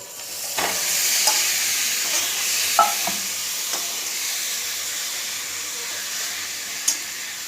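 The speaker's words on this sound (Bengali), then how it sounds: "স্বাদ অনুযায়ী নুন দিলাম, 1 চামচ চিনি দিলাম, দিয়ে এটাকে আমি মিনিট 5 এখন কষবো" Chicken frying with cumin powder, chilli powder, Kashmiri chilli, salt and sugar in a pan for butter chicken; a steady, moderate sizzle with occasional sharp spoon scrapes and taps, no talking.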